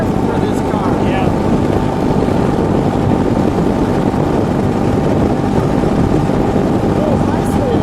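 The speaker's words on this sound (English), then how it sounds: "we're just going really slow. We're just idling around." A 1913 Bugatti Type 22 engine idles along as the car creeps slowly over smooth road, giving a loud, continuous mechanical rumble with a steady drone and no clear revving.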